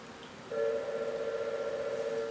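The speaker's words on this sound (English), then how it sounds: "Our phone is ringing." A telephone rings during a church sermon, a steady electronic tone starting abruptly and holding unbroken for nearly two seconds at moderate volume in a room with faint background noise.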